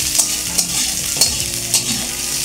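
Onion fries in a little oil for a moringa flower bhorta, making a loud, continuous sizzle with periodic stirring scrapes against the pan.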